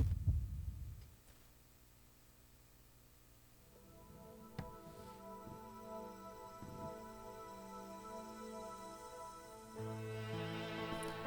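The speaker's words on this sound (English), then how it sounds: "It's interesting that heartbeat kind of just came in by itself without anything and then kind of left." A heartbeat effect in the intro of a song performed on The Singer 2017 gives a few soft, low thumps at the start, then fades out as sustained strings and an arpeggiated melody take over, all fairly faint.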